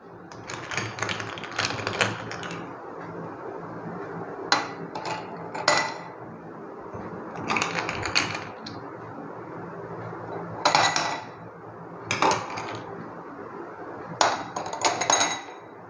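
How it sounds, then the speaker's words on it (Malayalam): Ice cubes clink and rattle into a glass in several separate bursts, close and bright, with quiet pauses between drops. "ഗ്ലാസ്സിലേക്ക് നമുക്ക് ഐസ് ക്യൂബ്സ് ഒന്ന് ഇട്ട്"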